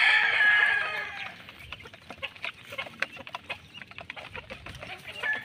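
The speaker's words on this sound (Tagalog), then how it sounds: "Kumakain na po sila mga kaibigan ng ating mga alagang sisiw." Pet chicks peck and chirp while eating feed, with a burst of loud cheeping at the start followed by scattered close pecking clicks and soft peeps.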